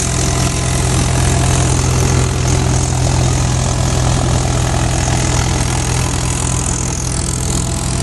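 A Jangid Agro four-fan wheat thresher runs off a 585 tractor while threshing Lokwan wheat, giving a loud, constant mechanical drone with a steady low hum and broadband rushing noise and no pauses.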